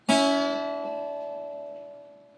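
A single plucked electric guitar note rises slightly in pitch as the string is bent, then rings out and slowly decays on its own.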